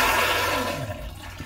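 A TrailLite black water toilet flushes and macerates, a loud close rush of water with a grinding motor roar that slides lower in pitch and fades toward the end.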